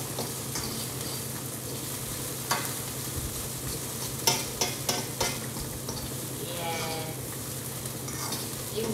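Onions frying in a pan on a kitchen stove give a steady, close sizzle throughout, with a few light clicks and stirring scrapes partway through and no talk.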